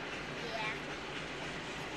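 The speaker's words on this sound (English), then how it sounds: "Probably a train like this, because they travel back and forth all the time" Steady rumbling roar of a train passing on a nearby railway, continuous and fairly loud for the whole stretch, with faint metallic squeal traces.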